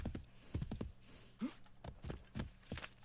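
Horse hooves clopping in the video game Assassin's Creed III, a quiet, uneven run of distinct hoof strikes roughly twice a second, with a faint voice-like sound briefly in the middle.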